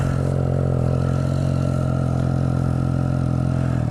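A three-cylinder motorcycle engine drones steadily with a deep, throaty hum, close and continuous without revving up or down, on a ride around Perth.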